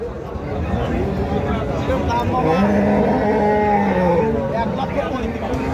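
A Jersey Friesian cow at a cattle market in Sharatnagar moos in long, drawn-out calls close by, with a murmur of people talking in the background.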